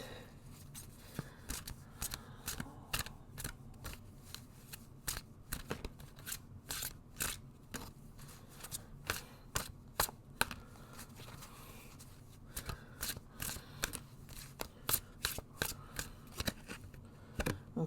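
Tarot cards being shuffled, a run of crisp riffling and slapping bursts in irregular clusters, close up, with a quieter pause partway through.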